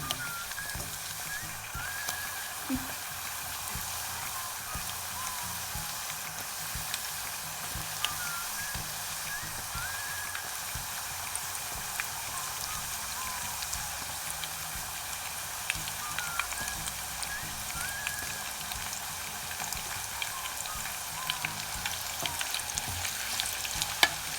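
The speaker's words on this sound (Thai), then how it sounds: "ไปทอดกันจ้า" Thin banana slices for Thai banana chips fry in hot oil with a constant close hiss and crackle, occasional light clinks of stirring poking through the steady sizzle.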